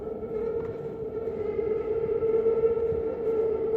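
A London Underground Northern Line train rumbles through a tunnel, a sustained droning hum with a steady tonal whine that grows slightly louder as it approaches, heard alone without talk.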